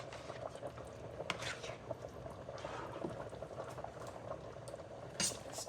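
Pasta boiling in a pot of water in a home kitchen, a steady bubbling churn with small pops and gurgles, moderately loud and close, with a brief splash or stir near the end.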